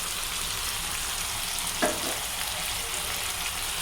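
Tomatoes sizzle in a hot pan with a steady, soft frying hiss, broken by one brief scrape of stirring near the middle.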